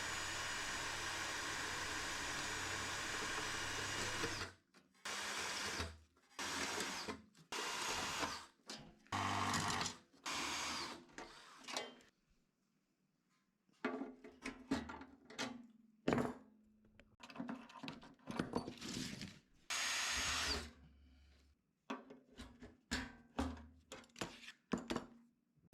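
A drill bores holes into the flange of an aluminium nose rib, cleco-fastened over a hand-held backing board; short bursts of whirring separated by quiet gaps, close and clear, repeating about a dozen times.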